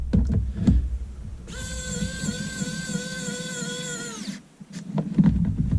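A rechargeable precision electric screwdriver runs for about three seconds with a steady high-pitched motor whine. Quiet handling noises come just before and after it.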